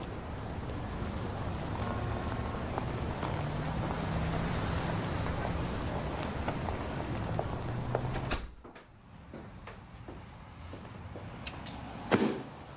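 Steady rain hisses for several seconds, then drops off sharply to a quieter patter with a few isolated clicks and knocks.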